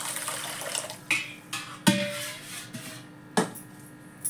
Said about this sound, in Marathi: परत थोडंसं पाणी घालून ठेवते